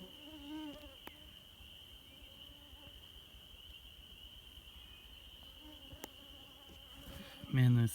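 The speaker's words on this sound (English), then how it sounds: "the mosquitoes are thick now though" A thick swarm of mosquitoes whines in a faint, steady high-pitched hum at sunset on an off-grid rural property, with a brief louder noise close by near the end.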